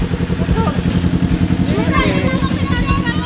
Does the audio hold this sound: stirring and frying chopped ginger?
no